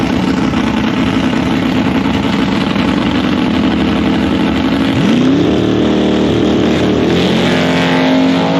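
Drag racing cars at a national drag racing round at Springmount, engines roaring loud and continuous, with a rising launch-like sweep around the midpoint and another climb near the end.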